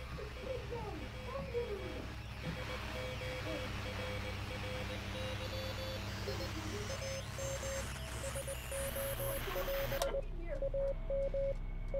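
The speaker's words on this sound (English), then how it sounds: "Oh my god, that's Morse code." A Morse code signal in the video game Transference beeps in steady repeated pulses amid a dense, noisy game soundscape of static and hum, cutting off abruptly near the end.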